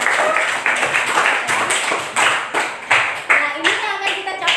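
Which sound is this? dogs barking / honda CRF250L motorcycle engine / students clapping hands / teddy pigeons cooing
students clapping hands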